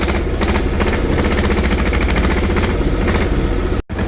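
A tractor engine idles with a steady, pulsing mechanical chug, loud and close, cutting off briefly near the end.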